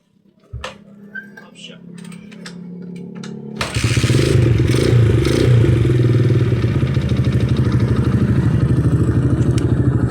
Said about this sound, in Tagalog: Ayan, umandar na yung motor, ano, na KLX.